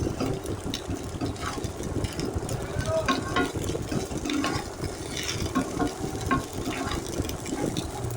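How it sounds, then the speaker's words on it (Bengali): Drumstick pieces and beans fried together with vegetables in a pan for dudh shukto, a low continuous sizzle with occasional stirring scrapes, steady and moderately faint, with no talking. "ডাঁটা শিমটাকে দেওয়ার পর এটাকে একটু আমি সবজির সঙ্গে ভাজা ভাজা করে নিচ্ছি।"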